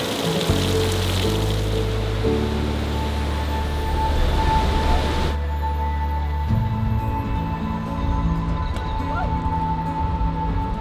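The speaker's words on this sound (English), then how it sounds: "There's a small waterfall." A small waterfall on a river at Miner's Bridge near Betws-y-Coed in Wales makes a steady, close rushing roar of falling water that continues throughout, with low tones layered over it.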